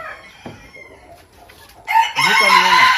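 A Sultan rooster on a poultry farm crows loudly once near the end, a clear rising then sustained call, after quieter clucking and faint background sounds.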